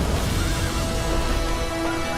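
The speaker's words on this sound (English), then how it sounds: "A horse?" A horse in The Witcher 3 REDkit, the game's modding tool, gives a loud whinny that rides over a steady, dense game soundscape with no speech.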